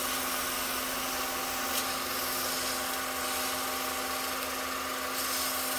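Sandpaper at 120 grit pressed against an oak and pine candlestick spinning on a wood lathe, giving a steady, even whirring hiss with a constant motor hum beneath, close and unbroken throughout.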